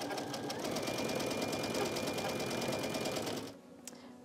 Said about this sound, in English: Carefully sew across the pin, but if you don't want to do that, just slide it out before you get to it.